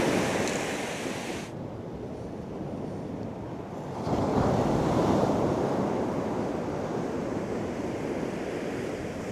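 Waves and wind roll over a snow-covered beach in sub-zero winter, a constant broad roar of surf with gusting wind noise buffeting the microphone, growing louder midway.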